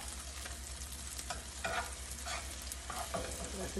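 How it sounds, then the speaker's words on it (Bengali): Three eggs frying in a pan for a breakfast egg sandwich, a steady close sizzle with intermittent scraping stirs, no talking. "তিনটা ডিম ভাজা নিচ্ছি"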